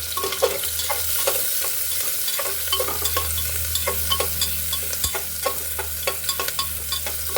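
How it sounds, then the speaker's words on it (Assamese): Onions with dried and fresh green chilies fry in a generous amount of oil, a constant sizzle broken by frequent sharp clicks and scrapes of a spoon stirring against the pan, close and without talk. "আৰু এইখিনি ভাজি ল'ম।"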